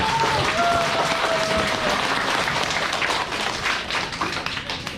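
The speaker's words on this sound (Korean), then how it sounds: "박수 한번 치고 시작해요" A lecture audience bursts into applause, many hands clapping in a dense, lively wash that holds steady and then thins slightly toward the end, a brief tone or voice briefly showing early on.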